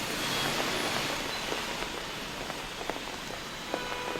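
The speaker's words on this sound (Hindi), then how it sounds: "सुबह से लगातार बारिश हो रही है" Heavy rain pours steadily on streets in Delhi, a dense, even hiss of drops with faint pattering, no talk.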